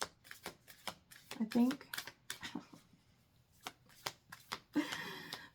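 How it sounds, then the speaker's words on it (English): A deck of oracle cards being shuffled in several quick riffling bursts, close and crisp, with a person speaking softly between and over the shuffles. "This is our second shuffle with this one"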